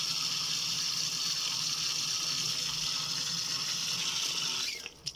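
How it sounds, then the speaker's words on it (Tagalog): Water poured steadily into cocopeat, a continuous close gushing splash that runs for several seconds before stopping abruptly. "Lalagyan pa po natin ang tubig."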